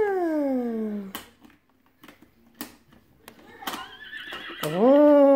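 A horse whinnies, a descending tonal neigh, then a few sharp clicks and knocks before a second rising whinny ends the clip.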